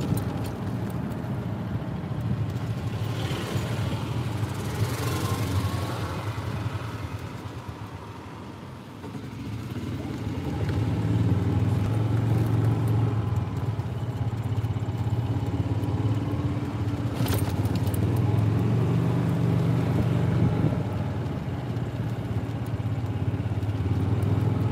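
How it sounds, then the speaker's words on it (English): A golf cart cruises through the Piedmont neighborhood of The Villages, its motor a steady low hum with light rattling, wind noise and a brief dip before it picks up again, continuous and close throughout. "My golf cart ride."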